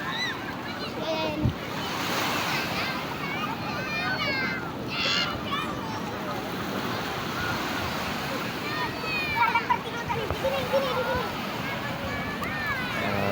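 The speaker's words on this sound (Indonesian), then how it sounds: "views dari objek wisata Pantai Babah Kuala" Surf rolls steadily onto the shore at Babah Kuala beach in Aceh Besar, a continuous wash of breaking waves with wind buffeting the microphone and faint voices of visitors in the background.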